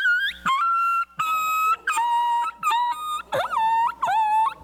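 A game call mimics a dog yelping, a series of about six sharp, high whining cries, loud and close, in a rapid uneven rhythm.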